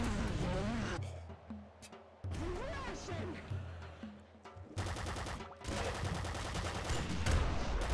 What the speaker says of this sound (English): They see you and they instantly shoot.